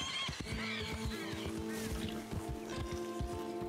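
A White Arabian horse in Red Dead Redemption 2 neighs in shrill, wavering whinnies, with steady hoofbeats clopping close by and a voice briefly heard.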